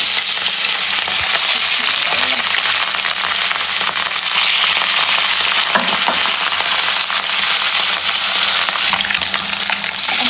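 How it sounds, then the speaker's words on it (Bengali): Katla fish pieces frying in hot oil give a loud, steady sizzle and crackle with sharp pops and spatters, continuous throughout and with no talking. "এখন মাছগুলো ভেজে নেব এটাকে।"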